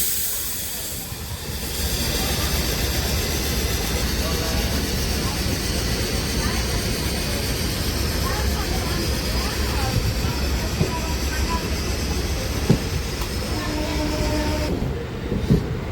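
MEMU local train pulling out of Vijayawada railway station, heard from on board as a continuous loud rumble and hiss of the running carriage, with occasional clanks and knocks, steady for the whole stretch.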